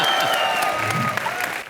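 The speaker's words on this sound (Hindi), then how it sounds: "सबसे पहले जोरदार तालियां" A studio audience at a live comedy show applauds loudly, a dense burst of clapping with a crowd murmur and faint music underneath, tapering slightly toward the end.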